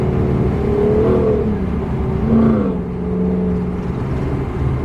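A supercharged Camaro SS engine with Flowmaster Super 44 exhaust hums and revs, its whining pitch rising and falling as the throttle changes, loud and close.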